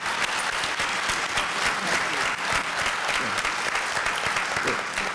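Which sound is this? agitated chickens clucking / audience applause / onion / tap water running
audience applause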